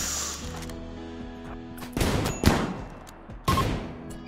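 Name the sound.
gunfire from colonists shooting, RimWorld video game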